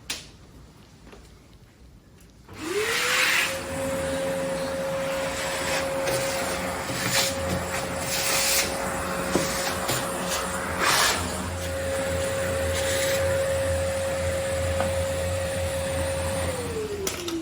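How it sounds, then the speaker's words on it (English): A vacuum cleaner motor whirs up to a steady high whine and drones on, with scraping and rubbing noises over it, then winds down at the end. "This man knows how to use a vacuum cleaner."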